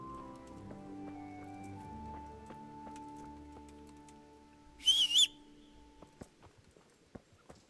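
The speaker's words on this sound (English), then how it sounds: "Whistle for my horse." A short, sharp two-note whistle for a horse in the video game Kingdom Come: Deliverance rings out once, followed by a few soft hoof clops and light ambient tones fading underneath.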